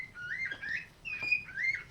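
A pet bird gives bright, close chirps and whistles in three short bursts, with no one talking over it.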